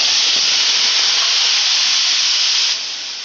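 Ground coconut, green masala and tomato paste hit a hot pan for a misal pav curry, setting off a loud, steady, close sizzling hiss that fades slightly at the end.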